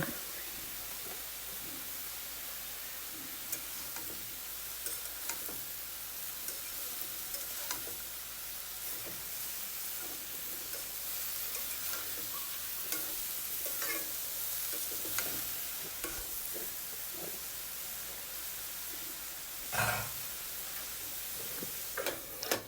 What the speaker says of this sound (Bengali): পরিমাণ মতো লবণ দিয়ে আবারও নাড়াচাড়া করে আমি ঢেকে দিব